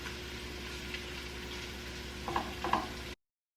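Shrimp sizzle quietly and steadily in a pan, with a couple of faint stirring clicks near the end before the sound cuts off.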